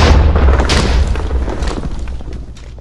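A cannon in Minecraft's Balkon's Weapon Mod fires with a loud, close boom that fades into a rumbling decay over a few seconds, with no talk.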